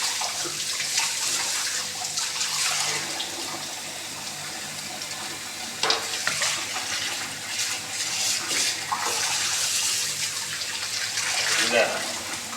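Vessels being washed under running tap water in a home kitchen, a steady gushing stream with occasional clinks and splashes, continuous throughout and partly under a person talking.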